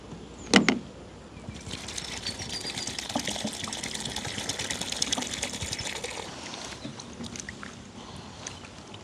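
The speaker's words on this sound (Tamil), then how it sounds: "இந்த போஞ்சி இஞ்சை நாங்கள் துப்புரவாக்கி எடுத்துட்டால் மூஞ்சியும் கழுவி எடுப்போம்" Green beans are swished and rinsed in water, giving a continuous close splashing and sloshing after a brief sharp clunk at the start, with no talking.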